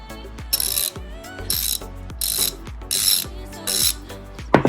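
A DeWalt ratchet wrench clicks in short, crisp bursts, close and fairly loud. Each burst is a quick run of metallic pawl ticks, repeated about five times with brief pauses between them, with no talking.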